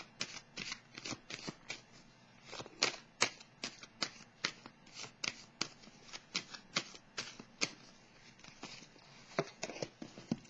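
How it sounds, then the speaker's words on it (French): Tarot cards being drawn and shuffled: a long run of crisp, papery snaps and flutters, irregular but steady, close and fairly quiet with no voices. "Je vais piger une carte sur la perte affective."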